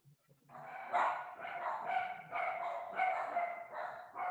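A dog barking in the background of an online meeting: a rapid, fairly even series of sharp barks running almost continuously for about four seconds, heard at moderate distance.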